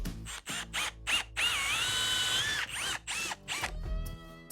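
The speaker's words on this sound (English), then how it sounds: "They drill fast." Power drill boring a hole with a fluted bit, several short motor bursts followed by a sustained rising and falling whine as the bit cuts, close and clear with no talking.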